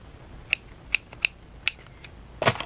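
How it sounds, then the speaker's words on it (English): Scissors snip at fabric while a shabby chic pocket is made for a junk journal: four or five crisp, isolated clicks in an uneven rhythm, close and clear, ending in a longer, rougher cut. "Probably be helpful if I used actual scissors that cut fabric."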